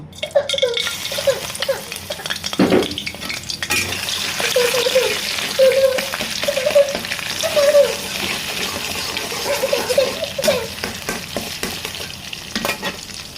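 Shrimp paste sizzles in hot oil in a pan, stirred steadily with scraping strokes, and the crackling frying holds at a close, fairly loud level throughout.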